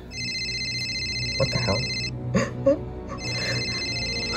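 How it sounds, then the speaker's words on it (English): A telephone rings in a horror opening scene, a steady electronic ringtone that pauses midway and then resumes, while a voice exclaims in surprise over it. "Why's the phone ringing?"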